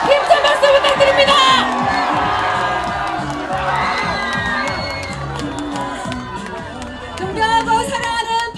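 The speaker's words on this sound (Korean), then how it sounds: "힘찬 박수 부탁드립니다." An outdoor crowd at a People Power Party campaign rally in Saeam Park, Paju, cheers and shouts in a sustained, fairly loud swell, with tonal sounds and voices mixed into the noise.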